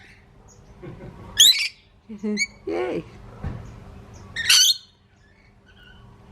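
Birds in an octagonal aviary at a botanic garden in Townsville, Queensland, give two sharp, shrill squawks a few seconds apart, close by, among quieter chirps while people talk softly nearby.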